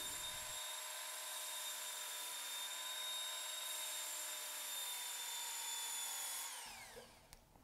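A Work Sharp combo sharpening machine runs steadily with a high, even electric whine as a lopper blade is passed along it, then winds down near the end. There is no talking.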